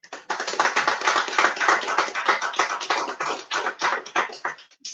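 Audience applause at a book presentation in a quiet room: a close burst of individual hand claps, crisp and uneven, holding steady for several seconds before thinning out at the end.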